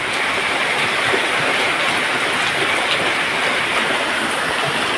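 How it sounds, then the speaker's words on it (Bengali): Heavy rain pours steadily outdoors at a soil-digging work site, a dense, continuous hiss of drops pattering on surfaces with no break and no voices. "দেখা যাক কখন থামে বৃষ্টি।"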